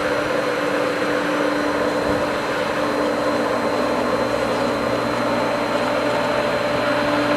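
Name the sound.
pool pump running with air passing through valve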